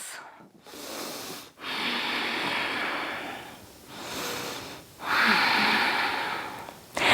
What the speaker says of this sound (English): Take a couple breaths.